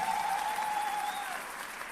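A church congregation applauds with dense, steady clapping that tapers slightly, joined by a sustained tone in the background.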